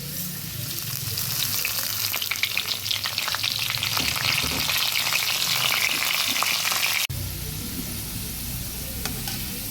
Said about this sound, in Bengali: পাঁচ ফোড়ন শুকনো লঙ্কাটা কিছুটা ভাজা হয়ে এসেছে।